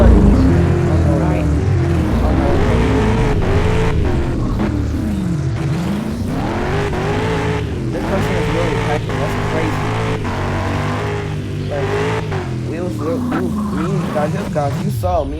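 Car engine in a shooting video game, revving and shifting pitch as it accelerates and slows, loud and close, with voices talking over it throughout.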